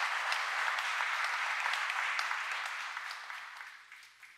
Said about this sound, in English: Give them another big, big, big round of applause.